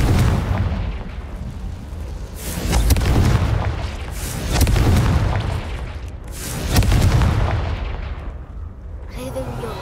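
Heavy, booming blasts from a Confringo spell in Hogwarts Legacy roll out three times in slow succession, each a deep, loud explosion that swells and then fades into a rumbling tail.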